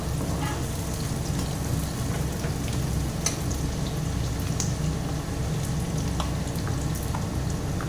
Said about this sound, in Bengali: এবার এখানে পেঁয়াজ দিয়ে দিলাম বন্ধুরা। পেঁয়াজগুলোকে লাল করে ভেজে